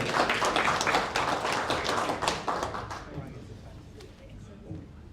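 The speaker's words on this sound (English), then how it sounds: "Give him a round of applause." A crowd claps in a steady patter of applause that gradually fades out over a few seconds.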